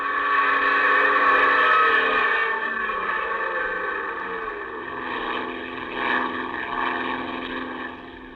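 Airplane engine drone mixed with rushing wind as a sound effect in a 1948 radio drama, loud and sustained, with a steady engine tone that swells and wavers near the end.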